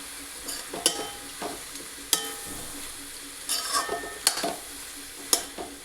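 Cauliflower and other vegetables being mixed in a kadhai, heard as a soft background sizzle broken by several sharp scraping and clinking spoon strokes against the pan.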